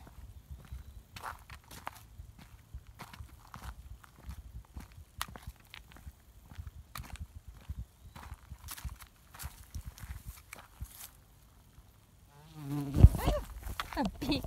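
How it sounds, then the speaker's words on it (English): A bee buzzes near a hiker on a trail at Tinker Cliffs, a faint steady hum with scattered footsteps and rustling, then a louder close burst of handling noise near the end. "A bee literally just landed on my finger."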